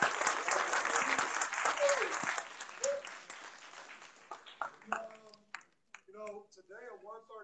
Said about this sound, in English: let's clap and give it up to Brother Malik for putting this on.